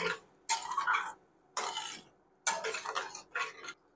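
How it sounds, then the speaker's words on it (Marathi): Spoon stirring prawn masala in a pan after salt and kokum agal are added, giving bursts of scraping and clinking in several separate strokes, fairly close, with no talk. "पुन्हा एकदा आपण मिक्स करून घेऊया"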